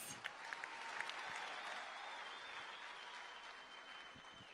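An audience at a youth ceremony gives Indaro Group another round of applause, a continuous, faint-sounding mass of clapping heard from a distance that holds steady and then eases slightly.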